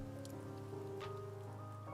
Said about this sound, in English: But I don't want to have the rain going.